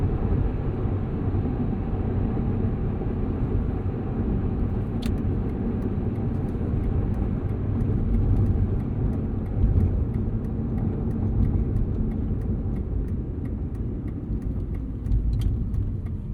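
A 2015 Aston Martin Vanquish cruising in normal mode, with a steady low engine and road rumble heard from inside the cabin. It drones on evenly throughout, with faint ticks and no talk.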